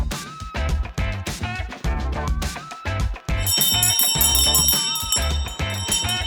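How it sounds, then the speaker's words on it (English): Opening bell at Harvest Market in Launceston, Tasmania, ringing in rapid repeated strikes with bright sustained overtones, loud and close, continuing over several seconds without speech. "It's the opening bell. It's the tradition of the market."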